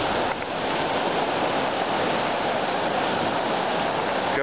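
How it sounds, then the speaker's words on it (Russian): Floodwater on the Silinka river near Komsomolsk rushes past in metre-high waves with breakers, making a loud, continuous, unbroken roar with no voices. "там он волны по метру почти с бурунами"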